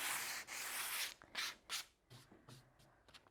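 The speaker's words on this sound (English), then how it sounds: "we can give all the pieces a nice sanding, get all the edges nice and smooth" Plywood pieces for a rocking horse being sanded smooth by hand, edges included: several raspy rubbing strokes, a long continuous one first and then shorter bursts, close and fairly quiet, with no talk.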